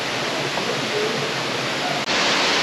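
A waterfall in Pai, Thailand, running low, gives a steady, close, full-bodied rush of falling water that stays unbroken except for one brief dip near the end.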